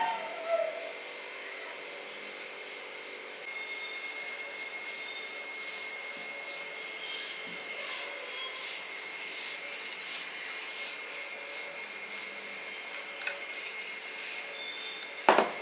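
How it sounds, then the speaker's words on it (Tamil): Hands rub and spread dough across a flat surface for a no-stove snack, a quiet, continuous soft scraping with faint repeated strokes and no voices. "எடுத்து இதிலே வச்சு நம்ம இப்படி தேய்ச்சிக்கணும்."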